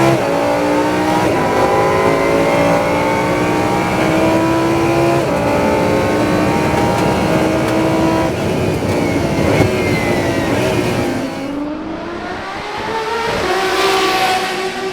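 A Lamborghini Huracan Super Trofeo race car drives hard on track, its engine howling loud and close through rising revs and gear changes, easing briefly then building again, with no speech.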